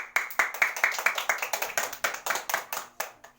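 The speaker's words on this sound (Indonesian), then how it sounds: "Pintar, tepuk tangan semuanya" Children clapping hands together in an Islamic religious education lesson, a rhythmic series of about twenty sharp claps in a steady beat, close and fairly quiet, thinning toward the end.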